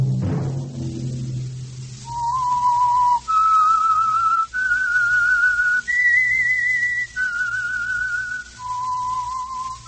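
A whistled theme signal for The Whistler radio program, a clear solo melody of six sustained notes rising and then falling, heard alone after a brief low sound at the start.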